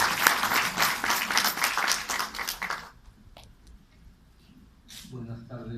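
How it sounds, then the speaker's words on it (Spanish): Audience applause for an investigative journalist at a book event, loud dense clapping for about three seconds that cuts off, followed by quiet room and a voice starting to speak. "Fuertes palmas por él."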